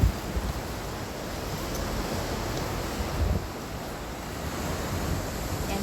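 Sea waves roll and wash steadily onto Haeundae beach, a continuous broadband surf roar with some wind buffeting, moderately loud and without voices.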